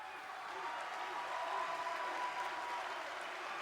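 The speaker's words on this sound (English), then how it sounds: "the crowd wooing with her with like her call to arms" A wrestling video game crowd cheers and applauds as a wrestler enters the ring, a steady dense roar of clapping and shouting that holds at an even level throughout.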